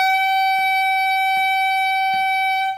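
Sustained honking long tone from a reed instrument in a beginner wind lesson, held steady and loud with three soft clicks, likely key noise, spaced evenly beneath it.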